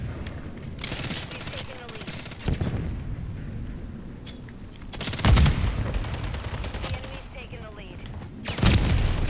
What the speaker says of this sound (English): I love the laser gun sound, the las rifle